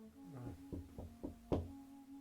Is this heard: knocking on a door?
yes